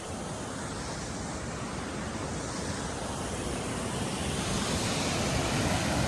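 Chigule waterfall at Kanakumbi, water pouring in a continuous broadband rush, steady and close, with some wind buffeting on the microphone and no voices.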